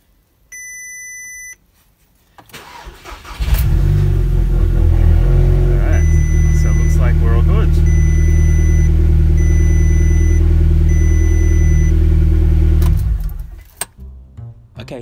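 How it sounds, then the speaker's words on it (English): An Audi TT Mk2 8J, converted from front-wheel drive to Quattro all-wheel drive, beeps a few times before its engine cranks, catches and settles into a loud, steady idle, then shuts off. "Join the two fuel filter and fuel run hoses to the engine."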